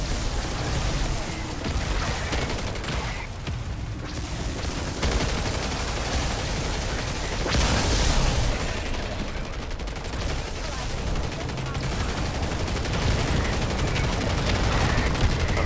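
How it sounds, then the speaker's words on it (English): Mortar strikes and gunfire in a zombies battle in Call of Duty MW3, a dense, continuous barrage of booms and shots running loud the whole way through, with no quiet break between them. "Alright, mortar inbound."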